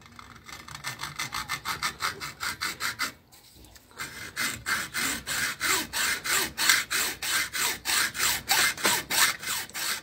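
A hand saw rasps back and forth in quick, regular strokes through the soft metal of an old laminated plane iron, pausing briefly before resuming a steady, louder rhythm.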